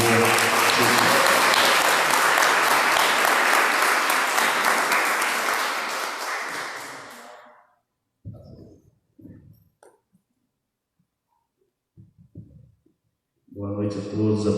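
Congregation clapping at an evening church service, loud and dense for about seven seconds before fading out, followed by a quiet gap with scattered short sounds and a burst of sound returning at the end.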